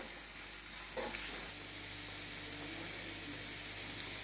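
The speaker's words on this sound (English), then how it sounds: "Fry until golden brown." Chicken fries in a pan with a faint, even sizzle and a low steady hiss, quiet and continuous with no voices.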